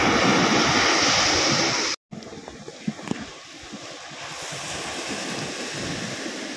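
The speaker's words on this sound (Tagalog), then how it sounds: "Malalaki ang alon." Big sea waves crash and wash continuously along a shore where a boat is being landed, with heavy wind buffeting the microphone; the roar stays loud throughout, briefly cutting out once.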